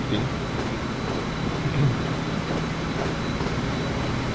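A train in the Train Fever game runs at high speed as a steady, even rumble with a low hum, constant throughout, and no talk over it.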